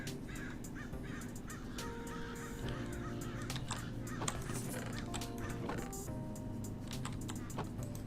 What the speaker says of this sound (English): I keep hearing crows, but I never see them, ever.